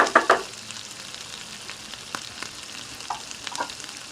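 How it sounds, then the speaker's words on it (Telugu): Carrots fry gently in a pan over a low flame, a soft steady sizzle with a couple of louder stirring scrapes at the start and faint clinks later, with no talking. "సిమ్లో పెడితేనే మంచిగా వేగుతాయి."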